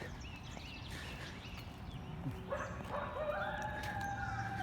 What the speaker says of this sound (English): We didn't see it, but we could definitely hear the red wolf.